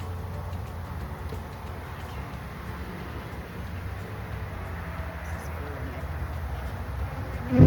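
Honey bees swarm over a heavy frame of nectar and capped honey during a hive inspection, giving a steady, close, continuous buzz that persists throughout with a brief louder knock near the end.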